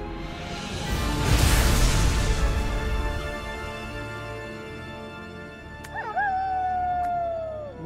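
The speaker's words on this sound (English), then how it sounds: "Wolf howl doorbell." A wolf-howl doorbell in a cartoon Halloween scene sounds a long, wavering howl, then a rising yip and a drawn-out falling howl, clear and alone with no talking.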